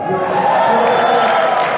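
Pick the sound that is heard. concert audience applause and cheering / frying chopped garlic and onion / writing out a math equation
concert audience applause and cheering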